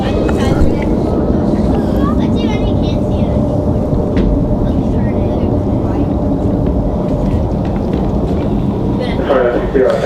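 A Boeing 737 jet departs Raleigh-Durham airport with a loud, continuous low roar that swells and holds across the whole stretch, rumbling close and steady while people talk over it.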